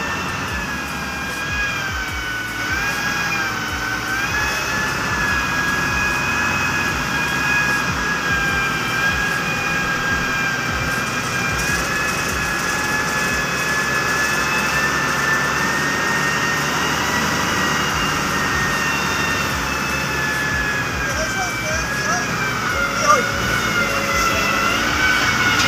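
Mini dumper truck engine running at a construction site, a steady loud droning hum with a high whine on top, unchanging for the whole stretch with no talking.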